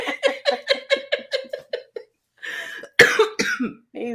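A man coughs in a rapid run of short, harsh bursts, stops briefly, then lets out a few louder, rougher coughs, all close and clear.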